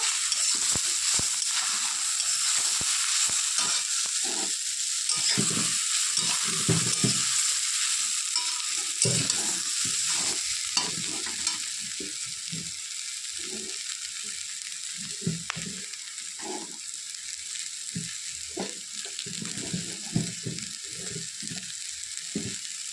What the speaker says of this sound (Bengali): দিয়ে একটু নেড়ে চেড়ে দেবো